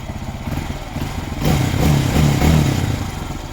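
Lifan KPX250 motorcycle engine fitted with a NIBBI PE28 carburetor, idling steadily close by with a low, even rumble that swells slightly in the middle before settling.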